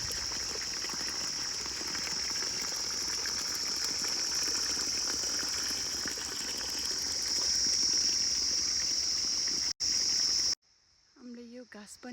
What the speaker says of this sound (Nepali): गाउँघरको पानी खाने धारा